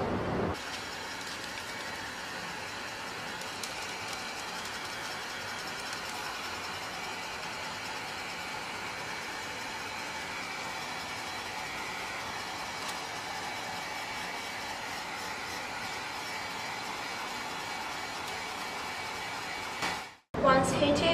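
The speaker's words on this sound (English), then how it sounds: "I'm gonna use use the heat blower gun to heat the films so they will shrink to fit more tightly." A heat blower gun roars in a steady, continuous rush while heating thermo-shrink film over a sublimation substrate, then cuts off abruptly near the end.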